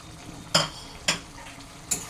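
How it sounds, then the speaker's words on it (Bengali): Fried Bombay duck fish pieces go into a pan of spicy sauce with capsicum and are stirred, giving three sharp scraping clatters of a spatula against the pan over a soft, steady sizzle. "এবার এই যে আমি ভেজে রেখেছি মাছগুলো সেগুলো এর মধ্যে দিয়ে দিচ্ছি"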